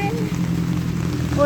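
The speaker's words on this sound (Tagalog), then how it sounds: "Yan guys, sugod tayo sa ulan." Steady, continuous rain falls in an unbroken wash of hiss and patter, close and fairly loud, with a few faint chirps near the end.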